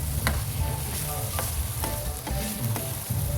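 Chicken liver and masala sizzle and fry continuously in a pan, while a spoon stirs and scrapes with several distinct clinks against the metal.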